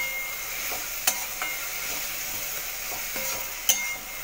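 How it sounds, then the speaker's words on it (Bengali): Ginger, garlic and onion sizzle steadily in a pan for chana masala, with a few sharp clinks and scrapes of the stirring spoon standing out over the frying. "যতক্ষণ না এটা দিয়ে কাঁচা গন্ধটা যাচ্ছে আদা রসুনের বা পেঁয়াজের, ততক্ষণ আমি এটা কষতে থাকব।"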